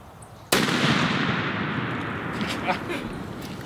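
A single loud shotgun blast during a hunt goes off suddenly and close, then rolls into a long echoing boom that slowly fades, with no talking over it.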